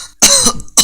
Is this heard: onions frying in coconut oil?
no